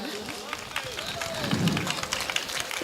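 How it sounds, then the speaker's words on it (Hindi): Scattered, fairly faint applause from an audience at a mushaira poetry gathering, with loose claps and crowd murmur running steadily through the moment. "इस मोहल्ले ने तो इतनी कमजोर तालियां बजाई"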